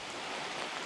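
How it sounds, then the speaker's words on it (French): Heavy rain from a thunderstorm with hail beside water under trees, a loud dense wash of noise filling the brief moment without a break. "Il y a de l'orage, il y a de la grêle, il y a de la pluie"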